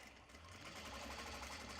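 A sewing machine stitches a bag with a 4mm stitch, giving a steady, rapid mechanical whirring hum that stays constant and faint throughout.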